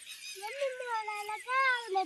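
Peacocks call out near a river on a rainy day, with a few drawn-out, wavering wails rising and falling. They sound fairly loud and close, with a short gap between two call phrases and no other sound.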